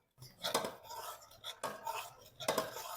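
A spoon stirs flour into homemade desi ghee, making three distinct scraping, clinking strokes against the pot, separated by softer gritty rustling, close and quiet.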